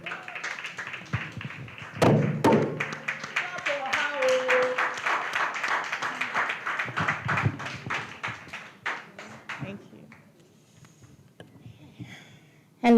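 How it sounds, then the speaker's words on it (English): Audience clapping at a food-systems demo day, a broad sustained patter of many hands that swells at first, holds steady with scattered louder claps and voices murmuring underneath, then thins out toward the end. "So please, a round of applause for Senami Anko"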